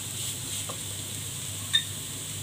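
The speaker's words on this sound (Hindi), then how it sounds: "इसको अच्छे से मिक्स करेंगे" Chicken samosa filling is stirred with spices in a pan: soft, steady scraping over a faint low sizzle, with one sharp metallic clink partway through and no voices.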